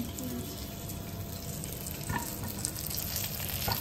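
Oil poured into a hot kadai sets off a soft, continuous sizzle and hiss, fairly quiet and steady, with a few faint crackles and no talking.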